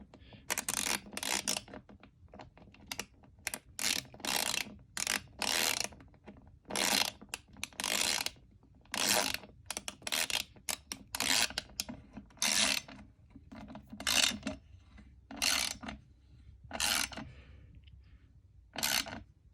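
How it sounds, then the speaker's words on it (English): A 1/4-inch drive ratchet from a socket set tightens a bolt in repeated bursts of rapid clicking, each stroke a short sharp ratcheting rattle separated by brief pauses, close and clear in a quiet room. "try and tighten down this bolt with it and see how it responds"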